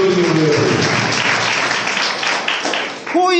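A church congregation clapping for God, loud continuous applause filling the room as a voice fades out at the start and another begins at the end.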